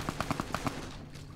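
Rapid bursts of gunfire from a sniper on a ridge in Fallout New Vegas ring out in a quick string of about seven shots, moderately distant, then fade into quiet ambience.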